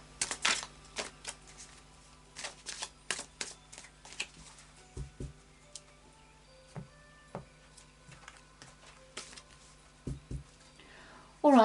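Soft, irregular riffling and tapping of playing cards being shuffled and handled close by, in short scattered bursts with quiet gaps between.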